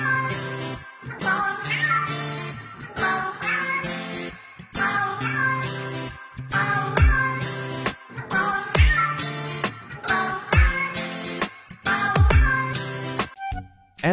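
A cat meows repeatedly in long, drawn-out, tuneful cries, close and loud, with a low thumping beat under some of them.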